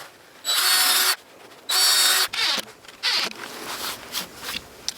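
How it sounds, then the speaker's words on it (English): Two short bursts of a power drill whirring at full speed drilling pilot holes in plastic, followed by lighter rattling and handling noises. "So I'm going to drill some pilot holes."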